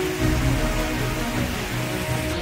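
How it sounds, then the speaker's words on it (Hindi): Steady rain pours down during a storm in Kota, a dense continuous hiss of drops striking surfaces at a constant level, with no thunder or voices standing out. "कोटा में बारिश और तेज आकाशीय बिजली की गड़गड़ाहट से लोग सहम उठे"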